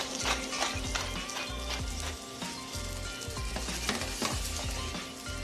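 Brussels sprouts frying in butter in a pan, a steady loud sizzle with crackles and occasional clinks of a utensil against the pan, no voices.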